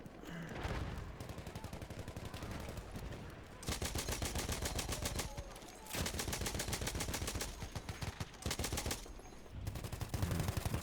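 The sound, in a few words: enemy gunfire in Battlefield 1 video game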